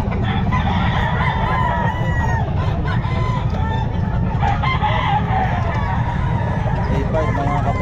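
Chickens and roosters at the Bocaue pet market: overlapping crowing and clucking from many birds over a dense, constant crowd hubbub, with voices talking nearby.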